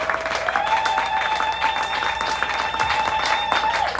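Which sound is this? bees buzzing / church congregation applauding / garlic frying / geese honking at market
church congregation applauding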